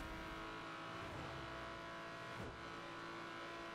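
A Porsche in The Crew racing game accelerating flat out at very high speed, a loud, steady engine roar that holds without a break, with a brief whoosh partway through and no voices.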